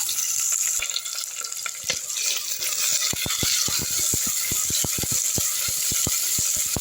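Onions sautéing in a hot pan for a kurma, a steady close sizzle throughout with regular sharp scraping strokes of a spatula stirring them, no voices.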